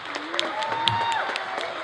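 An audience at a poetry slam breaks into applause, a brief patter of clapping with whistle-like tones and a voice talking over it.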